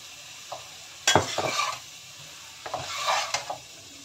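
Noodles with meat and oyster sauce stir-fry in a pan, where a soft sizzle is broken by two bursts of scraping and tossing from a spatula, each lasting about half a second to a second, fairly close.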